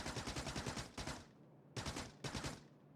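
Automated turret in Factorio firing in rapid bursts: two dense volleys of loud, close gunfire, each about a second long, separated by a brief pause.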